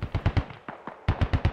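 Rapid rifle shots from an SKS in the military shooter Squad, two quick bursts of four close, sharp cracks separated by a brief gap with fainter shots in between.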